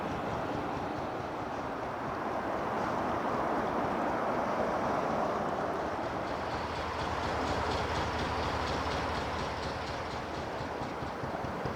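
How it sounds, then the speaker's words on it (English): Steady motorway traffic noise from the M69 rolls past a narrowboat as a broad, continuous roar and hum, loud and unbroken for the whole stretch. "the incessant noise of a motorway"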